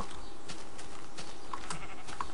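Minecraft sheep bleat a few times against steady game ambience, the calls short and moderately clear, with no talk over them.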